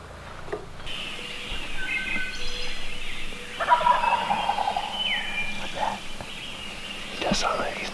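A roosted wild turkey gobbles from a distance in early-morning woods, several faint rattling calls scattered through the stretch, with hushed whispering nearby.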